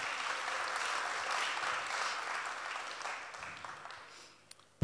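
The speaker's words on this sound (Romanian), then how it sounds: "Haideți să aplaudăm pe Dumnezeu, Tatăl, Fiul și Duhul Sfânt." A church congregation applauds in a steady wash of many hands clapping that carries evenly before tapering off toward the end.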